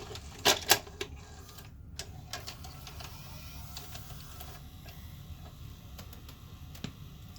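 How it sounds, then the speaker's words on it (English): A Mitsubishi-made Electrohome AVR K44 S-VHS VCR takes in a tape: two sharp clicks and clacks close together, then a steady low mechanical whir with faint ticks as the transport threads the cassette. "let's pop a tape in and see"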